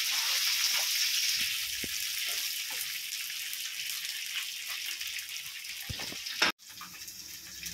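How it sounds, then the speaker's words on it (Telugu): Cauliflower florets frying in a pan of hot oil for gobi fried rice, giving a steady broad sizzle that stays loud and continuous throughout, with a brief clatter and dip near the end. "ఫ్రై చేస్తే కొంచెం క్రిస్పీనెస్ వస్తుందని చెప్పి ముందే ఫ్రై చేస్తున్నాం"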